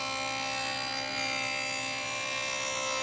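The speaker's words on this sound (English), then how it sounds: "To create the grooves for the cabinet shelves, I switched to a dado blade with a width matching the plywood thickness." A table saw fitted with a dado blade runs steadily while cutting shelf grooves in plywood for a cabinet, a continuous whining hum with tonal overtones, close and fairly even, with no talk over it.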